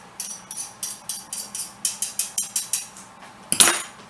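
A metal whisk knocks rhythmically against a pot while stirring a cheese sauce for macaroni, making about a dozen close, evenly spaced clinks that end in a louder clatter.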